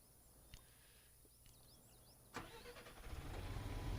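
A car engine starting in GTA V after faint birdsong, with a single crank-and-catch burst that settles into a low, rising rumble, quiet overall.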